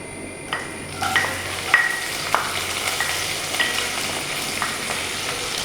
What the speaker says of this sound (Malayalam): ചെമ്മീനൊന്ന് നന്നായിട്ട് ഫ്രൈ ആയിട്ട് ഒരു ക്രിസ്പി ആയിട്ട് വരുന്നവരെ നമുക്കിതൊന്ന് വഴറ്റി കൊടുക്കാം